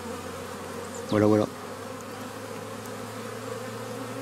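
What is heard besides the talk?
honeybees at the beehive entrance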